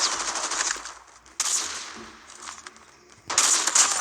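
Bursts of automatic gunfire in Call of Duty, two sustained rattling volleys separated by a quieter stretch, loud and close.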